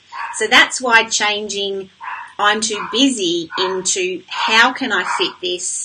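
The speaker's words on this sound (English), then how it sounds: "that's my dog going crazy in the background" A dog barking and yipping excitedly in the background, with repeated sharp barks scattered under a close, steady speaking voice.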